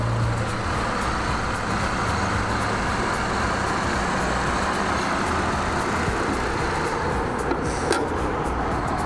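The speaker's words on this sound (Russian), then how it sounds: "Работа двигателя отличная" A 2008 Chevrolet TrailBlazer with its 4.2 Vortec engine runs at a steady idle, an even, close rumble that holds without revving for the whole stretch, alone with no talk.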